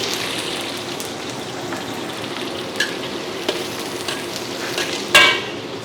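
Onions sautéing in a hot wok as the base for stir-fried napa cabbage: a close, even hiss and sizzle with a few light utensil taps and one sharper clank near the end.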